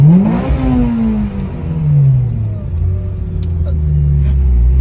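A loud Honda NSX sports car engine revs and roars past close by, its pitch sliding downward as it passes, then a deep rumble lingers.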